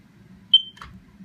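A battery-operated smoke alarm, just fitted flush to a ceiling, gives one short sharp high beep, followed by a faint click, in a quiet room.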